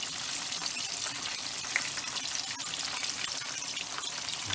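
Crumbed zucchini sizzles and crackles steadily in a frying pan, soft and continuous with no talk.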